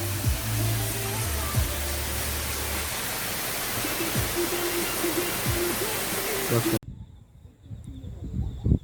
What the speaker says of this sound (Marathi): तिकडे झरे वगैरे वाहत आहेत